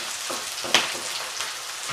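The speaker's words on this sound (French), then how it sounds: "Quand les champignons sont dorés, j'ajoute l'échalote, du piment d'Espelette et je remélange pour finir la cuisson." Sliced mushrooms and chopped shallot with Espelette pepper sizzle and crackle in a hot pan, a steady bright hiss broken by a sharp clack of the utensil stirring near the middle.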